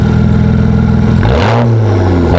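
A straight-piped BMW exhaust drones loudly and steadily, then revs sharply upward and drops back to a low, throbbing rumble close by.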